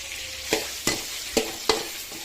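Plain omelette egg mixture seasoned with turmeric, chili powder and salt cooks on a low flame, with a steady soft sizzle broken by four sharp scraping or stirring knocks spaced about every third of a second to half second.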